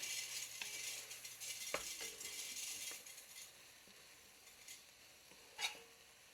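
Garlic and crushed red pepper tossed in a hot pan, giving a steady bright sizzle with a few light clinks and stirring scrapes, quieter toward the end with one sharp tap near the close.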